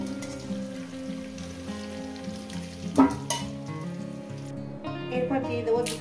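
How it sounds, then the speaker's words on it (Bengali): Bay leaves and cumin seeds sizzle in hot oil as a tempering for chicken curry, a soft steady crackle under background music. "ফোড়নটা কয়েক সেকেন্ড একটু ভেজে নেব।"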